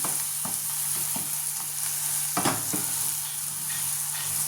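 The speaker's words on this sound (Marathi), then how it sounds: "अशा पद्धतीने हे परतून घ्यायचं आहे व्यवस्थित." Green pea bhaji is stir-fried in a pan, giving a quiet steady sizzle broken by a few soft scrapes and one stronger stirring stroke midway, with no voices.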